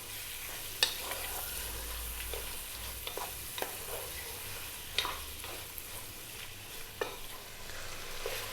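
Beef searing in a pan over high heat for an Arab biryani: soft steady sizzling with occasional stirring clatters and scrapes, close and fairly quiet, no talk.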